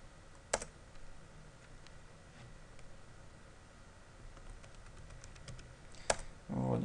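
Keys clack on a computer keyboard while a password is typed, a quiet scattered run of taps with two sharper clicks, over faint room noise and a low murmur near the end.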